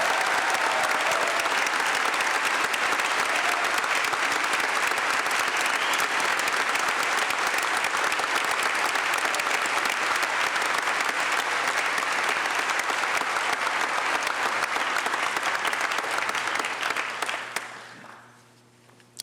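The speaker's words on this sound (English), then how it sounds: "let's give them all a big round of applause for keeping our community safe" Large audience gives a sustained, loud round of applause during a state address in Texas, dense clapping holding steady for most of the stretch before tapering off and stopping near the end.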